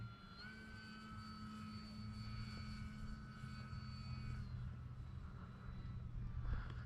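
Electric E-flite Commander MPD RC airplane flying with 4S power, a faint steady motor whine with tonal overtones that holds, fades slightly midway, and swells again near the end.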